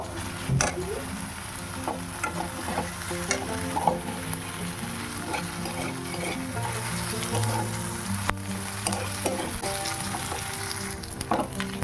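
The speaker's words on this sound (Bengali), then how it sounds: "তারপরে কড়াইতে তেলের মধ্যে দিয়ে দিলাম এভাবে পেঁয়াজ কুচি।" Chopped onion fries in oil in a kadai (wok) with a soft, steady sizzle and small crackles. It stays faint and even throughout, with a low, tonal background hum underneath.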